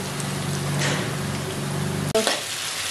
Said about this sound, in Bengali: এরপরে এর মধ্যে আমি আলু দেবো, আলু দিয়ে আমি একসাথে ভেজে নিচ্ছি।